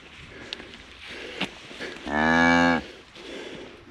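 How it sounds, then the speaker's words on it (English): A cow, a mother with her second calf, lets out one loud, sustained moo on a ranch, rising out of faint outdoor background noise and lasting close to a second. "Kind of an ugly cow, but a good mama."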